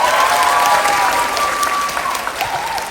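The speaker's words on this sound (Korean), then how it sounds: "박수 부탁드립니다." Audience applause at a 20th-anniversary event for a Korean film production company, a loud, dense wash of clapping that holds steady for about three seconds, with a faint whistle-like tone drifting through it.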